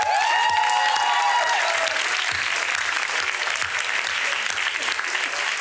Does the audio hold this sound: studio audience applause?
yes